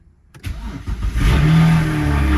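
A BMW E92 335i, tuned to about 500 hp, cranks over after more than six months of storage, catches and settles into a loud, steady revving idle, close by with no talk.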